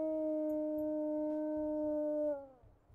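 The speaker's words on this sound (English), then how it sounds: "Secondary howl." A wolf in the video game WolfQuest gives a long, steady, tonal howl that holds one pitch, then drops and fades near the end over a low rumbling background.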